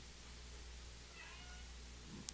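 A male cat gives a single faint, drawn-out meow that sounds distant, over a steady low background hum, with no one speaking.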